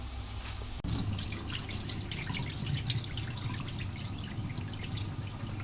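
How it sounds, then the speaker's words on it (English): Water pours and splashes steadily as rice is drained for a Pakistani chicken stir fry, a close, continuous rushing trickle with spattering drips, starting abruptly after a brief click. "So drain all the water from the rice."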